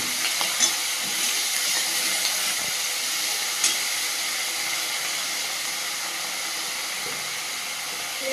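Water splashed into a hot frying pan with salt hisses and sizzles in a steady, even wash for the whole stretch, with a few faint clicks and no talk.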